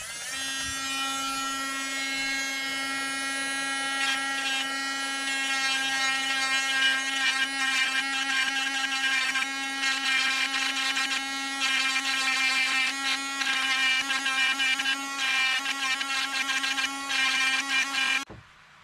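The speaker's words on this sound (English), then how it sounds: "that little hex there, we've got to sand that off with the Dremel" A Dremel rotary tool sanding off a small hex on a remote-control car part, a continuous high-pitched whine held for most of the clip with slight wavering as it bears on the workpiece, then stopping at the end.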